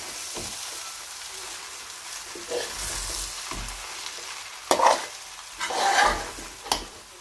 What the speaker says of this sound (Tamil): தேவையான அளவு உப்பு சேர்த்து நல்லா கிளறி எடுத்துக்கோங்க